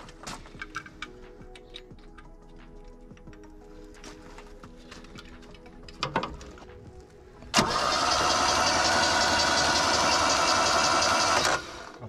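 An old Vauxhall Nova left abandoned in a field for seventeen years cranks with light rattling, then catches and fires into a loud, steady running engine that holds for a few seconds before cutting off.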